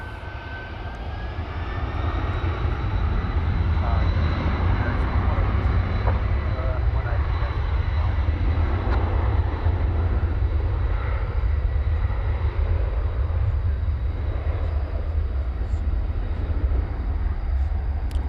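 UPS cargo plane taking off at DFW airport, its jet engines rising into a loud, steady, deep roar that holds for many seconds, with someone talking over it.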